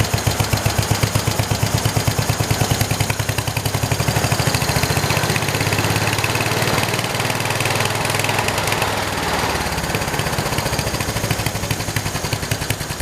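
A 1968 112 garden tractor fitted with a swapped Kohler engine runs loud and close, its steady pulsing idle rising as the throttle opens, then settling back toward the end.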